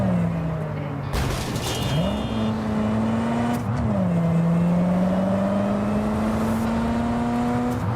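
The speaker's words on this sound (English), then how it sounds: "all of the cars sound different now as well" Cyberpunk 2077 game car engine drones steadily, its pitch rising and falling with gear shifts and revving, a continuous synthetic-sounding motor hum throughout.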